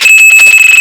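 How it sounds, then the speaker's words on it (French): Electronic fishing bite alarm at a pond, giving a rapid run of loud, high, piercing beeps close by with no talk. "à filmer les cannes pour avoir le moindre bip en direct"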